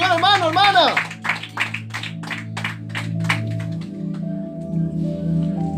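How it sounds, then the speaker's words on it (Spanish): A church congregation claps during a worship service, with quick, irregular claps over a sustained organ-like musical drone, after a voice sings or speaks briefly at the start. "¿Cuánto le dan un fuerte aplauso al Señor?"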